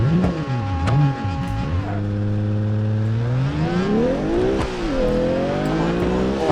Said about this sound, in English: That's a fast RX-7,